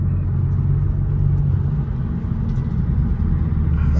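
A car drives along a road during a street race, with a steady low engine rumble and road noise holding close and even throughout, no voices.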